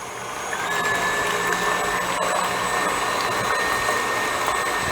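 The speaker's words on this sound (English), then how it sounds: "I'm gonna put those right here in my blender. I wanna blend these up" Eggs whirring in a kitchen blender, a loud continuous motor whine that starts after a brief pause and holds steady, with no talking over it.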